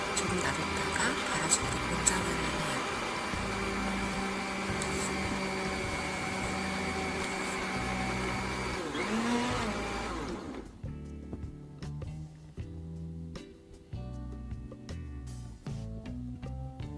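A kitchen blender whirs steadily for about ten seconds, grinding partly thawed frozen strawberries for strawberry milk, then cuts off, leaving soft background music with light ticking sounds.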